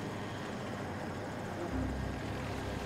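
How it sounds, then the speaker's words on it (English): Helicopters in a video game, an attack helicopter and Nightbird helicopters, give a steady droning rotor rumble that thickens slightly partway through, continuous and moderately distant. "we've got two Nightbirds and an attack heli over here"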